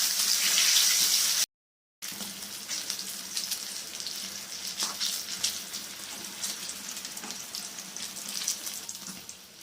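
Eggplant slices dusted with rice flour fry in hot oil, giving off a steady close sizzling hiss that cuts out for about half a second and then resumes evenly, with no voices.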